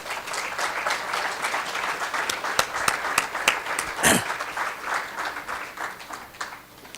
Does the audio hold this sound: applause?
yes